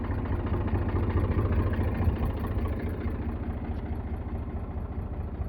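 A steady, low-pitched Eicher 485 tractor engine, a 2016 model, idles continuously at close range, a rumbling drone with a regular chug and no voices.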